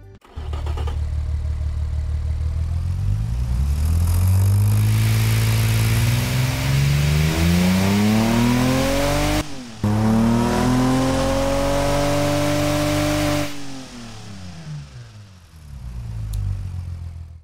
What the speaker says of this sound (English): let's see what this muscle car sounding inline 6 sounds like right now